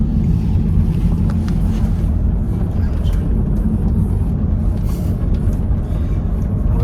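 Steady low road rumble and engine drone fill the inside of a moving car on the Canary Islands, continuous and close with a little wind noise and no voices.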